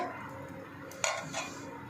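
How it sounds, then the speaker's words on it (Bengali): A lid set onto a pot of dal on the stove, one sharp metallic clink followed by a softer rattle, close and fairly quiet in an otherwise still kitchen. "এবারে ঢাকা দিয়ে দেবো।"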